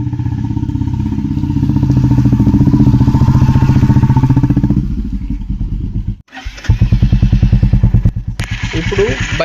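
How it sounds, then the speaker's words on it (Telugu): Outdoors, a Royal Enfield Classic 350 with a new silencer thumps loudly and close by in a rhythmic idle, revs, dips briefly, then picks back up. "అవుట్డోర్లో విందాం ఒకసారి."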